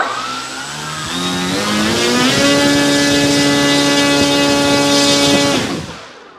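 Electric motor of a 1600mm Dancing Wings PT-17 Stearman RC model plane running up at throttle, rising in pitch over about two seconds, holding a loud steady whine, then cutting off, with no talk.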